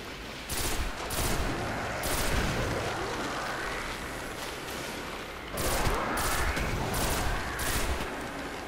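Sustained exchange of gunfire in the sci-fi shooter game Destiny, dense rapid shots and bursts running continuously and loudly throughout, with a heavier surge of firing near the end.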